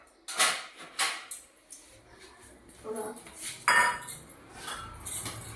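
A cooking pot and utensils handled in a home kitchen, with several metallic clanks and clinks in an irregular rhythm, close by, with some faint background sounds.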